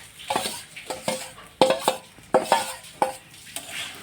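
Leftover rice frying in a pan is stirred with a utensil, giving a series of sharp scraping clinks against the metal over a soft sizzle, close and steady.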